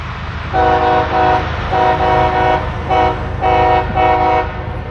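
A short freight train with its locomotives sounds repeated horn blasts on fast track, the tones rising and falling in a steady pattern over a constant rumble of the passing train.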